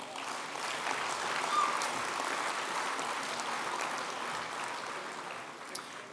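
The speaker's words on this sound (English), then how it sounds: "Yes, that's worth a round of applause." Steady applause from a large crowd at a formal dinner, even and sustained throughout with no break.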